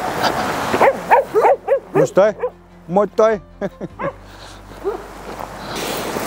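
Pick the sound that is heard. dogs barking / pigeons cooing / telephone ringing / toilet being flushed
dogs barking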